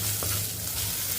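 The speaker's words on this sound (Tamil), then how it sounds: "ஒரு மீடியமான வெங்காயம் எடுத்திருக்கேன். இதையும் இதில் போட்டுருவோம். இதையும் ஒரு வதக்கிடுவோம்." Chopped onion and green chillies sauté in a pan for a soup, giving a steady close sizzle with a low frying hiss and faint stirring throughout.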